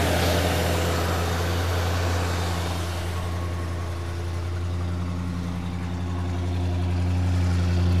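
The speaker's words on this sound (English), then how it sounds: "And here you can hear one side of the exhaust." A 1973 Mercury Marquis Brougham hardtop idles with a steady, deep exhaust rumble and engine hum, loud and close, running alone for the whole stretch.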